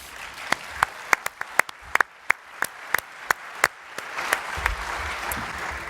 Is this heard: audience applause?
yes